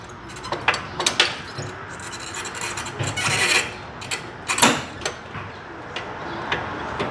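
A 1/2 inch socket extension worked over the drain plug of a Murray MT100 riding mower, giving close metallic scraping, rattling and clicking in irregular bursts, with no one talking.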